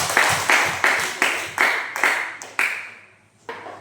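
A classroom applauding after a group presentation, heard as a string of sharp, evenly spaced claps that thin out and fade near the end.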